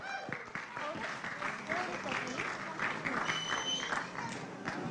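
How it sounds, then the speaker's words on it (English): Crowd applauding a costumed stage performance at IndiaFest Milwaukee, a steady wash of clapping mixed with voices and cheers that runs through the whole moment at moderate volume. "Give a round of applause, guys."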